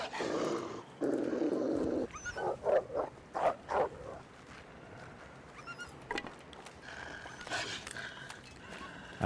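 A wolf-like dog growls in the survival game The Long Dark, low rumbling snarls in short bursts over a quiet wilderness ambience, with soft footsteps and background noise and no talking.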